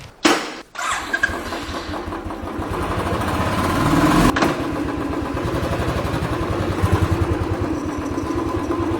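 A Royal Enfield Thunderbird motorcycle engine starts after a few short cranking bursts, then settles into a steady, loud, close thumping idle with a regular pulsing beat that runs alone to the end.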